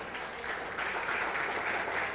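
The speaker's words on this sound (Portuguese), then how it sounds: "Você pode aplaudir a Jesus?" A church congregation claps together in steady, dense applause, moderately distant and filling the room evenly throughout the short stretch.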